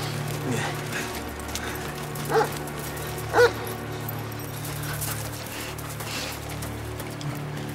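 Dogs tracking a scent near a river, with a couple of short barks and yips standing out over a steady low rumble and background noise, fairly distant.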